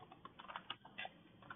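A few quick bursts of keystrokes on a computer keyboard, soft and close, in an irregular patter.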